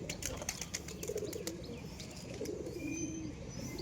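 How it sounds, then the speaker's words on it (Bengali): A desi Giribaz-line pigeon squab sick with pigeonpox stirs nearby: a flurry of quick wing flaps and rustles at first, then soft, low cooing murmurs. "এটা হচ্ছে আমার দেশি গিরিবাজ লাইনের কবুতরের বাচ্চা"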